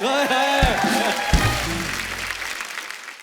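A comedy show studio audience breaks into applause on cue, clapping rising under a speaking voice and music, then continuing as a broad, moderately loud wash that gradually fades.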